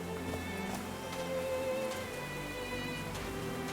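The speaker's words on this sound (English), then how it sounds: "These drops of rain are so refreshing." Light rain falls at a mountaintop in the video game Call of the Sea, a soft steady patter of drops layered over tonal game ambience and music, fairly quiet and without speech.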